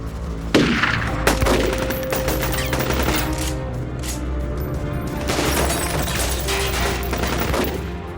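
Gunfire sound effect for a mob hit outside a steakhouse: loud bursts of rapid shots and sharp cracks ring out over a low rumbling bed, with no talking.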